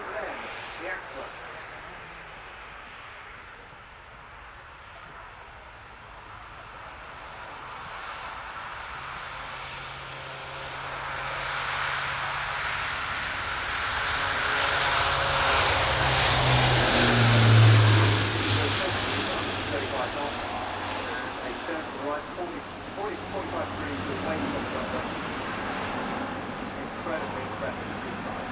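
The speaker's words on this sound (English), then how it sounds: "So now, rolling the Airbus A400M, the Atlas." Airbus A400M Atlas military transport with four Europrop TP400 turboprop engines accelerating down the runway at the RIAT air show, a broad engine roar swelling to a loud peak then easing, with a low propeller drone beneath and distant commentary.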